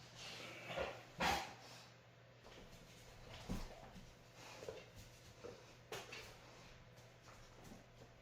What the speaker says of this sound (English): I got a 100-pound puppy behind me snorting.